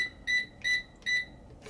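A hotel room safe, mounted up high, sounds three evenly spaced electronic beeps during a test, each short and bright with a steady pause between, and a soft rustle follows at the end.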